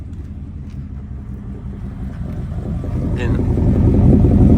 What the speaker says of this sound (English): On idle, it just purrs like a kitten.